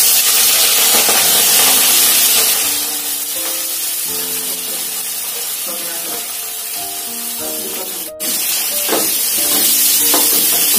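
Capsicum and cabbage hitting hot oil with mustard seeds in a pan on low flame for veg chowmein, a loud, steady sizzling hiss with stirring scrapes and faint tonal sounds underneath.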